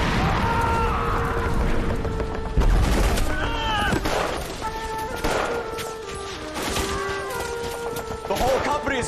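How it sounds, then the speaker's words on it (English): Heavy gunfire from an L.A. Noire battle, sustained bursts of .50 cal machine gun and artillery booms, loud and continuous with tonal game music or drone underneath. "That's one of our 50 cals still firing, Cole."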